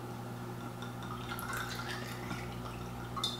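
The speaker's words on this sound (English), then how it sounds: "So we're going to pour a little in the glass." Buzzard's Roost barrel strength bourbon poured into a glass, a soft close trickle and drip over a steady low hum, with no talking.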